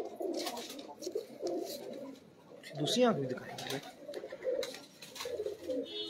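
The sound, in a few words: pigeons cooing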